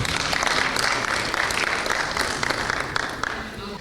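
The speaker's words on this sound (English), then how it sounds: "A better applause for our debaters." Audience applause for school debaters at a junior debate competition between Kapsabet High School and Friends School Tigoi Girls, a steady, dense clapping from a sizeable crowd held at full strength throughout.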